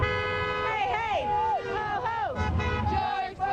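Car horns honk repeatedly from passing traffic at a rally on the steps of a downtown federal courthouse, long wavering toots overlapping near and far above a steady crowd murmur.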